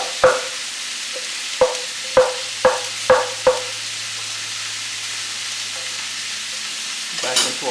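Smashed, rough-cut garlic sweats in a pan for a Sunday gravy, a low steady sizzle running under a series of sharp clanks as a spoon stirs and taps the pan, with a louder clatter near the end.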